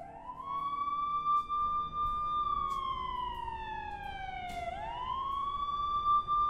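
An ambulance siren wails in the video game Blacksad: Under the Skin, a loud, close tone that holds, sweeps down and then rises again, with faint background noise beneath.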